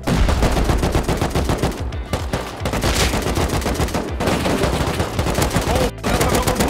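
Rapid, dense gunfire in the survival video game Rust, sustained bursts of shots filling nearly the whole stretch with only brief gaps, loud and close.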